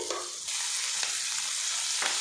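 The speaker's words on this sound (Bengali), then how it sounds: "পেঁয়াজটা আমি লাল করে ভাজা ভাজা করে নেব" Chopped onion sizzles steadily in a pan, a loud, dense hiss with a few soft stirring scrapes and no talking.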